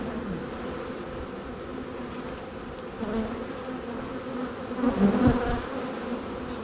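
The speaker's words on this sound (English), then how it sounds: "Standing in front of this hive, and they don't like that either." Honey bees buzz densely around an open hive during a split, a continuous near drone with a louder swell of nearby bees toward the end, no talking.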